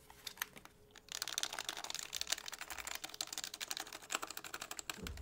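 Rapid, steady typing on a lubed HHKB Professional Hybrid keyboard: dense, even keystroke clicks close up, with a brief pause near the start and then continuous clatter with no talk.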